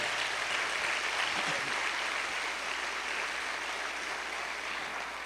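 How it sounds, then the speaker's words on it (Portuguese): An audience at a church seminar gives sustained, dense applause that fills the room evenly and stays steady at a moderate level throughout. "Se você recebe, dê uma salva de palmas a ele bem forte."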